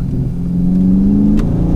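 A 2019 Dodge Charger R/T Scat Pack V8 revs up briefly on a downshift, a deep rumbling engine note rising in pitch, heard loud and close from inside the car without talking.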